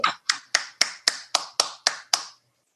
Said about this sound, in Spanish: Che, un aplauso.